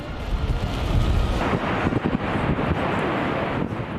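Niagara Falls in eastern Canada thunders as a massive waterfall, producing a loud, continuous broadband roar heard from close by with a deep rumbling low end.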